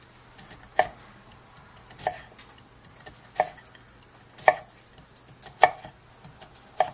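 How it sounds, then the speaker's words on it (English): A knife cutting sweet potatoes into chunks on a board, six sharp, evenly spaced thuds about a second apart with small taps between, close and alone. "So we'll cut them in chunks."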